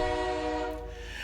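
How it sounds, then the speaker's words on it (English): A train horn sounds as one sustained, steady tonal blast that fades slightly toward the end, with no talking over it. "That's a train horn."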